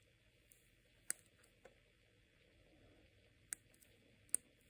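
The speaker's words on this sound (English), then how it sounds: "Gives you a little bit of a strong clicking button to make sure you know you're actually pressing it in." Chronograph pushers on an Armani Exchange AX1342 quartz watch being pressed, a handful of sharp, close, isolated clicks spaced irregularly over a quiet background hum.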